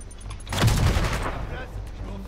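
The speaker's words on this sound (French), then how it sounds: "il est où le mec qui me tire dessus, là?" Gunfire aimed at the player in the Marvel's Spider-Man Remastered video game, a short muffled burst of shots that swells for about a second and then fades into steady background noise.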